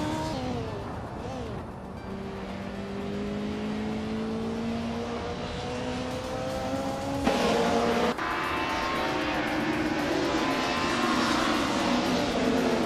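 Race cars in a video game roar continuously with rising and falling engine tones, several cars close together, one sharp shift midway as a car passes; no talking.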